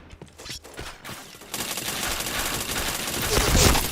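Rapid automatic gunfire from a shooter video game, with sparse shots at first that build into dense sustained bursts, loud and close. Faint talk sits beneath.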